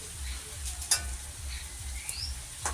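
Chili fritters (lonkar chop) fry in hot oil, giving a soft sizzle broken by a few sharp pops and spits over a low, pulsing background.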